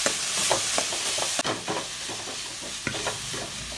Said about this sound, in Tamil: இதெல்லாம் நல்லா வதக்கிக்கலாம்.